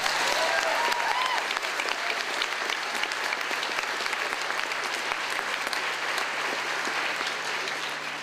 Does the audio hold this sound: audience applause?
yes